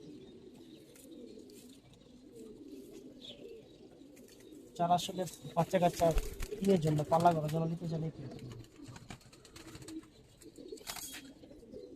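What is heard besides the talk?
Giribaz pigeons cooing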